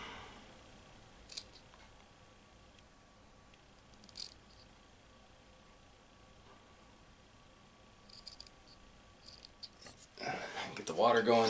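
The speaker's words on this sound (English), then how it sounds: "with the scissors on the Swiss Army knife, I'm going to trim these wicks down" Swiss Army knife scissors trim candle wicks on a tuna can candle: a few short, crisp snips near the start and middle of a quiet stretch, followed by louder rustling and handling noises toward the end.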